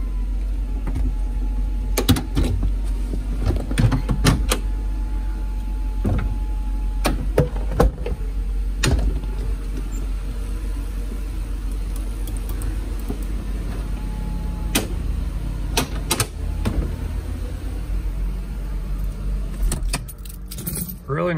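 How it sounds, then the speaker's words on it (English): A Mercedes R129 SL500's hydraulic soft top lowering after a rebuild of its hydraulics: a steady low pump hum with a faint whine, broken by repeated close clicks and clunks from the latches and folding mechanism, with no talking. "I'm gonna put the top down, show you there's no leaks."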